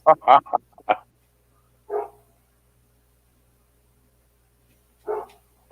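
A dog barks: a quick cluster of sharp barks at the start, then two more isolated barks spaced seconds apart, fairly close, with silence between.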